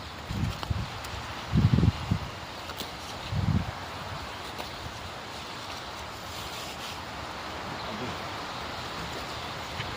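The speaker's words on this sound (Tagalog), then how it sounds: "Malakas ang hangin dito, Kagri." Steady broadband wind noise with a constant rushing hiss through leaves in a vegetable garden, plus a few low buffeting thumps on the microphone early on.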